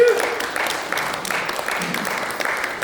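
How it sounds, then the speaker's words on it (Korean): A church congregation at a worship service in Las Vegas claps together, a moderate wash of applause in uneven surges that keeps going for a few seconds before thinning slightly. "다시 한번 입자리에 박수 한번 더 할까요?"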